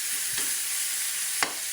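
Shrimp paste (bagoong) sautéing in a pan for Bicol Express, a steady close sizzle with two brief stirring scrapes.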